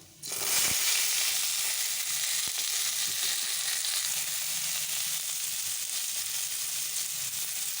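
Mango pieces hit hot oil already holding chilli and bay leaf, setting off a sudden loud sizzle that then settles into steady close frying for several seconds.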